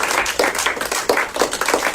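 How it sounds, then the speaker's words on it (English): Dense round of audience applause, loud and steady with rapid overlapping claps throughout a studio setting. "Thank you for the round of applause"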